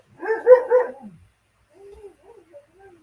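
A dog lets out a short burst of three quick barks up close, then a few soft whimpers and yips trail off afterward in otherwise quiet surroundings.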